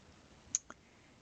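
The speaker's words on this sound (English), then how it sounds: "We're going to click on that." A computer mouse clicks twice in quick succession, crisp but quiet against a near-silent background.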